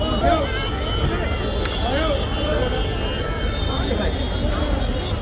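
Dense crowd at Gate 1 of the red sandstone and marble Jama Masjid in Delhi, a constant babble of many voices with footsteps, calls and a faint high tone running through.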